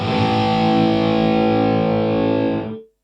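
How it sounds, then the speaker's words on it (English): A guitar chord run through the reverse reverb mode of a Digitech Digiverb pedal swells in thick and sustained, holding steady for nearly three seconds before cutting off abruptly. "I just wanted to quickly show you the Digitech Digiverb, which has an extra model being the reverse"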